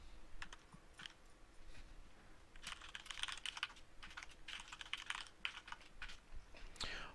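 Someone types a password on a computer keyboard in quick, irregular bursts of light key clicks with short pauses between them. The clicking is fairly quiet and close against faint room hiss, with no talking.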